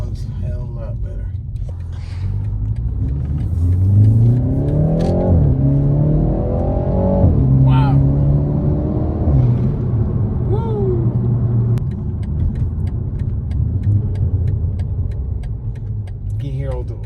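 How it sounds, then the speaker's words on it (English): A BMW 335i with an N54 engine and newly fitted air intake revs and accelerates on a drive, its deep rumbling note rising and falling through several gear pulls and intake whooshes, loud and close inside the car while people exclaim over it. "The intake sounds a hell of a lot better."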